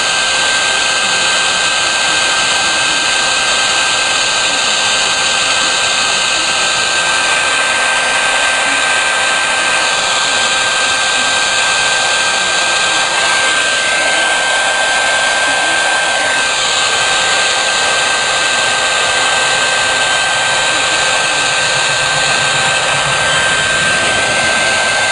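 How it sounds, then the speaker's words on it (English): A heat gun blows hot air in a steady, loud, unbroken rush that holds close and even for the whole stretch, with no voices over it. "You gotta keep the heat moving, you don't want to burn it."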